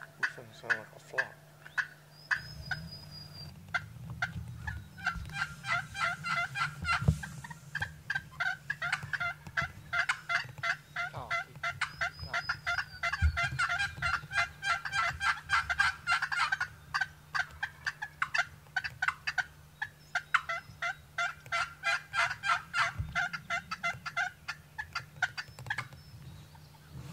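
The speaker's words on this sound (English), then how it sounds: "not far behind her was the gobbler, and he came out and he strutted and gobbled" A wild turkey gobbler in southeast Alabama gobbling repeatedly in rapid rattling bursts, fairly close and clear, with intermittent clucks and other bird calls over a quiet outdoor background.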